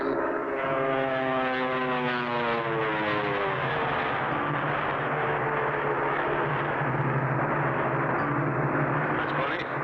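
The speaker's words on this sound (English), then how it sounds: "I think I heard another plane." Propeller airplane droning overhead in a 1960 cartoon, a steady loud engine hum with harmonic tones sliding in pitch as it passes, continuous for the whole stretch.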